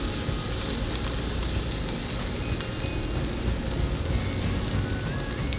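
Onion lightly sautéing in a pan for beef malai kofta in yogurt sauce, a steady close sizzle and hiss that fills the whole stretch without pause and with no voices.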